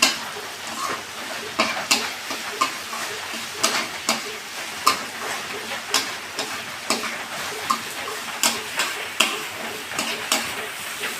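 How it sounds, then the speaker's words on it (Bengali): Bottle gourd peel with jackfruit seeds fries on a low gas flame, a soft continuous sizzle punctuated by regular sharp taps and scrapes of a spatula against the pan. "এবার আমি গ্যাসের আঁচটা কমিয়ে দিয়ে আস্তে আস্তে ভাজা ভাজা করে নেব।"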